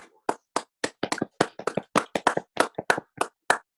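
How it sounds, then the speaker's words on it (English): Students clap in a scattered, uneven round, with a string of about twenty sharp, close handclaps over a few seconds and no talking. "So, give yourselves another round of applause."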